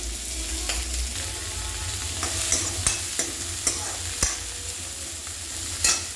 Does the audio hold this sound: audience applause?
no